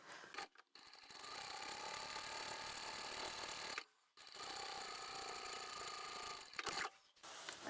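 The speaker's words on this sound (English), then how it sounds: "both of these pieces of fabric to the machine, and we're going to sew each fold individually, and it'll just be a narrow top stitch" A sewing machine runs in two long stretches with a short stop between, top-stitching folded fabric pieces for a lined tote bag with a narrow seam near the edge.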